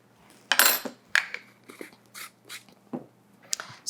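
A spoon clinking and scraping in a bowl while stirring cinnamon into a quarter cup of white sugar, a few distinct taps and scrapes spaced out over a quiet background.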